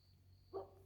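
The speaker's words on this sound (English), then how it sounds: "I hear Henry's dog" A neighbour's dog gives a single distant bark at night, faint against a quiet background with a low steady generator hum.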